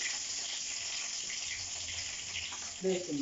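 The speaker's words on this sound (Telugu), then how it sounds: "తాలింపులు వేగిన తర్వాత పచ్చిమిర్చి కరివేపాకు ఉల్లిపాయలు" Tempering spices sizzling and frying in oil in a home kitchen pan, a steady close crackling hiss that runs throughout, with a brief voice near the end.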